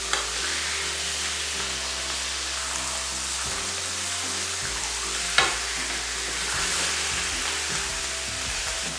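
Steak sizzling loudly in a hot pan just after being flipped, a dense continuous hiss and crackle close up with one sharp pop midway and no talking.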